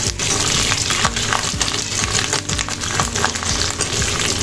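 Dried red chillies crackle in hot oil for a drumstick gravy tempering, loud, dense spattering pops running continuously throughout.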